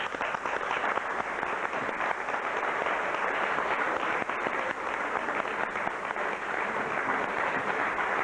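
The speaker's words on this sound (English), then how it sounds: "Give Joan a clap, bless her." Steady, sustained applause from an audience at a book event, dense and even throughout with no talking over it.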